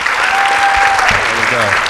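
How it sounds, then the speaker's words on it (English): An audience applauds after a panel session at a conference, loud, sustained clapping throughout, with a voice speaking over it partway through. "Help me give them a round of applause."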